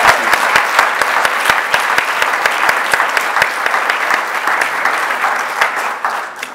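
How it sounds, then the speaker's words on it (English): An audience at a school division's service pin and retirement ceremony applauds. The clapping is dense and steady, with crisp individual claps standing out, sustained for several seconds before tapering off at the end. "will everybody join me in please thanking and cheering on all of our service recognition"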